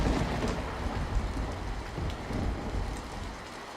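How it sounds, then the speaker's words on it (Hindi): Heavy rain pours steadily outside a hut in a cartoon, a dense continuous hiss and patter with low rumbling underneath. "सुबह के समय झोपड़ी के अंदर तेज बारिश की आवाज आ रही थी।"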